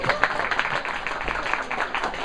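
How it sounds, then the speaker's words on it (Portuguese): An audience at a book club gathering with authors applauds in a brief, dense burst of clapping that holds steady for a couple of seconds. "Então, palmas pra vocês, pessoal!"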